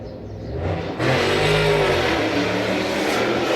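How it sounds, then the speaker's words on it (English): A loud car engine revs hard, its roar jumping up after a second and holding steady, close and dominant with no talking. "somebody has a loud engine"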